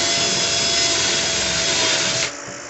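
A power trimmer grinds continuously as .223 brass cases are trimmed on a Lee Classic Turret Press, a steady loud whirring rasp that cuts off abruptly near the end, with no talking.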